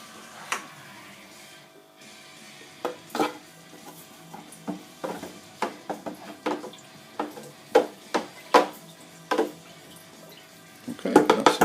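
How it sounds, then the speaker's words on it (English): Homemade alcoholic ginger beer mixture stirred in a vessel, with a string of sharp clinks and scrapes coming at an uneven, quickening rhythm, close and fairly quiet, busier toward the end. "Make sure it's all in, and then give a good stir."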